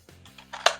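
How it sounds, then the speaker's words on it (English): A Nerf Sweet Revenge blaster, repainted in a Teenage Mutant Ninja Turtles theme, fires a single dart one-handed: a sharp, close snap-pop after a few faint mechanical clicks. "One-handed shooting."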